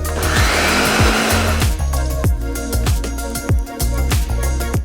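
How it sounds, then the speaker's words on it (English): A blender in an Airstream trailer kitchen whirs loudly and steadily, with repeated thumps and knocks as the contents churn, the motor pitch shifting slightly. "The blender."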